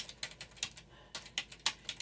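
Quick, uneven keystrokes tap on a computer keyboard, close and soft, with brief pauses between bursts and no voices.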